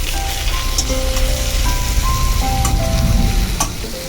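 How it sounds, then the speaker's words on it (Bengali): Cut potatoes fry in hot oil in a kadai, a loud, steady sizzle with a dense crackle and occasional sharp pops, close up and continuous with no talking. "সে আলুগুলোকে দিয়ে এবারে আলুগুলো ভেজে নিচ্ছি"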